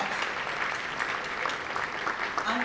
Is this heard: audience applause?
yes